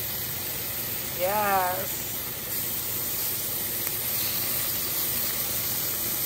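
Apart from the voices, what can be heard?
turkey bacon sizzling in a cast iron pan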